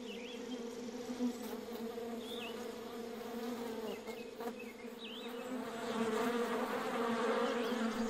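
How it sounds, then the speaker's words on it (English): Himalayan honeybees swarming near hives built under overhanging mountain cliffs, a dense steady buzzing hum with individual bees droning past close by, swelling louder toward the end. "The Himalayan honeybee is found mainly in central and eastern parts of the Himalayas."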